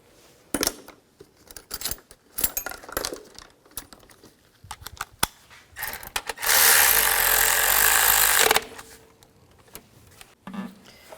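Tightening the ignition coil bolts on a 2003-08 Nissan Maxima, with scattered clicks and knocks of a tool, then a loud buzzing ratchet or power driver running for about two seconds, close up.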